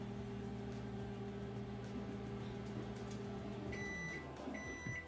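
Microwave oven running with a steady low electrical hum, then stopping, followed by a couple of short high completion beeps; faint and close.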